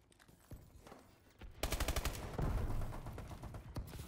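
Gunfire from PUBG, with rapid automatic bursts of close, sharp shots that repeat in quick rhythmic volleys, plus a few scattered single cracks before and after.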